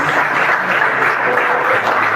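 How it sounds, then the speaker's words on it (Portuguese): Church congregation applauding together in steady, dense clapping that fills the whole moment at an even level, with no voices rising above it. "Dê uma salva de palmas para o Senhor Jesus."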